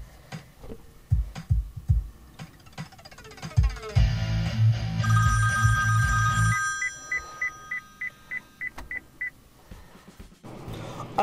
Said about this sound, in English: Unexpectedly, while making this demonstration, I received a phone call